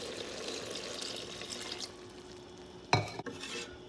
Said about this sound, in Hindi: 5 मिनट के बाद हम इसके अंदर डालेंगे 3 कप पानी के।